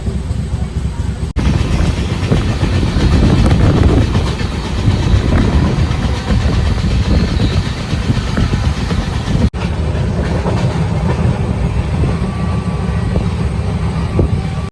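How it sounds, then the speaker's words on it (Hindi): The Chandigarh–Madurai Superfast Express rumbles into Ghaziabad station close by, its loud, continuous roar mixed with rhythmic wheel clatter on the rails. "गाजियाबाद अराइविंग करती हुई मदुरई सुपरफास्ट एक्सप्रेस"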